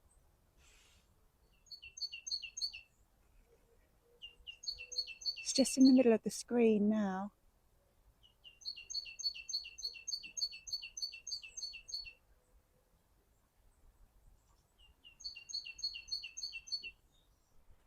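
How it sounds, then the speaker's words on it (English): Small birds chirp outdoors in spring, giving repeated high, quick tweeting phrases in bursts with short pauses. They are moderately close but soft, and a person speaks briefly in the middle. "we'll be hearing all the birds"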